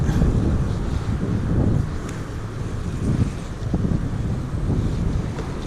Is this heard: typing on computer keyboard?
no